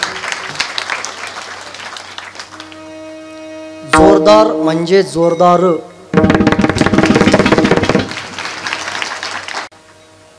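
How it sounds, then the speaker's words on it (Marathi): An audience at a Marathi kirtan breaks into loud, dense clapping in two bursts, close and energetic, with a voice speaking between and over the applause. "एकदा जोरदार टाळी वाजवा."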